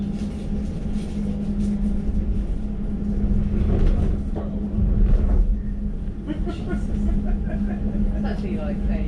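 An Elizabeth Line train pulls into Southall station, a steady low rumble and hum from inside the carriage, with a platform announcement and voices over the running noise.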